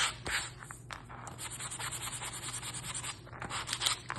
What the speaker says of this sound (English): I don't want to rub it so much that I don't see the design